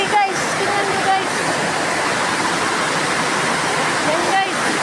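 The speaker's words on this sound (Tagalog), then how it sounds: "Pero nagbaha na guys." Floodwater rushing as the level rises during heavy rain, a steady loud roar of churning water that holds the whole time, with a few brief voice fragments over it.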